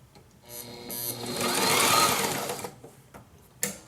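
A domestic sewing machine runs a steady burst of stitching through throw pillow fabric, swelling for about two seconds before stopping, then a brief clunk at the end; close and alone, with no talk.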